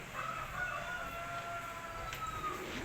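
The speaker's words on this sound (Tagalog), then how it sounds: "Manok ni Kano, guwapo." A rooster crows once in the distance, a thin drawn-out call over steady low background noise.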